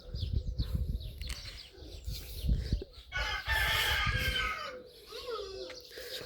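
Backyard hens cluck in short, irregular bursts while a rooster crows once in a long, rising call partway through, all fairly close and moderately loud over faint outdoor background.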